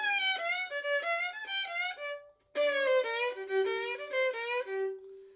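On a fiddle, a slidey lick in mandolin fashion: clear bowed notes with pitch slides, played in two short phrases separated by a brief pause and ending on a held note, solo and close.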